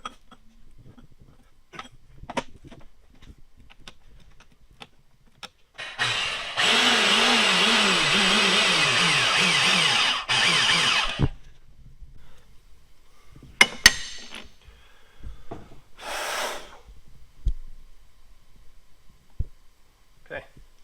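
A pipe threader running on a steel pipe during well auger fabrication, a steady grinding whir lasting several seconds amid scattered clanks and handling noises, with brief voices around it.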